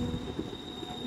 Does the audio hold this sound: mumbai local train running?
yes